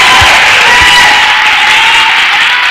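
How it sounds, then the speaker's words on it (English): Steady, dense hand clapping from a church congregation fills the whole stretch, loud and close, with a few low thumps near the start. "People of God, clap your hands beautifully for the Lord Jesus."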